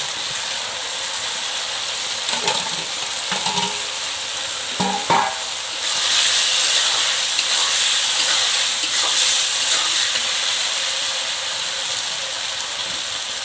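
Fish curry with potatoes and fried eggplant sizzles steadily in a pan, a continuous frying hiss with occasional stirring scrapes and clinks, close and fairly loud, no voices.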